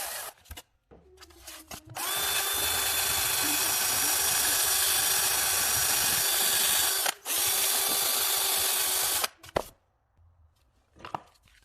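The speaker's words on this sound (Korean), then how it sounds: "저는 전동 드릴을 이용해서 이 사포들을 이렇게, 이렇게, 이렇게, 이렇게 날려줍니다." A power drill spinning sandpaper whirs steadily for several seconds with a gritty sanding rasp on pine-knot wood for a cross, pausing briefly once, then stopping; close and loud.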